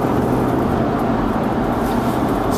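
Light road traffic makes a steady broadband rumble and wash of tyre and engine noise, continuous and fairly loud with no distinct pass-bys.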